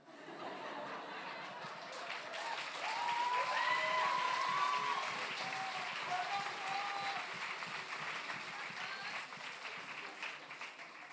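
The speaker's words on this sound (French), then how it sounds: "j'aimais bien les applaudissements" Sustained audience applause at the Prix Jules Favre 2023 ceremony, a steady wash of clapping with scattered laughter and whoops, swelling midway and then holding level throughout.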